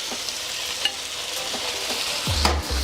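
Chicken chow mein sizzles in a wok as a spatula pushes it around, a steady frying hiss broken by light scraping taps and a couple of heavier metallic knocks near the end.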